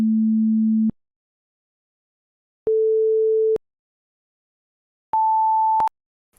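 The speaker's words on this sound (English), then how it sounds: "In the video, we have 3 sine waves at different frequencies." Three pure sine tones play one after another, each about a second long with silent gaps between them, stepping upward from a low hum to a middle tone to a higher clear pitch.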